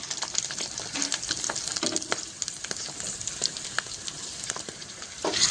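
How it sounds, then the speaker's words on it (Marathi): Rava papad rings, rolled semolina discs, frying in hot oil: a steady bright sizzle and crackle with bubbling pops throughout, close and continuous, no voices. "तर बघा किती छान तळतात हे"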